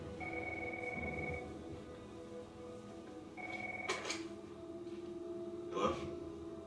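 A telephone rings in a Cobra Kai television scene, two clear bursts of electronic trilling tone separated by a short pause, fairly close and alone.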